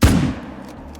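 A single loud rifle shot fired at a leucistic caribou during a hunt in Call of the Wild, a sharp crack at the start followed by a rolling echo that fades over the next second.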